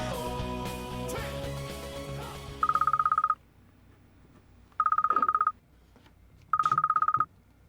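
A telephone rings in three separate electronic bursts with pauses between them, after background music fades out; no one speaks.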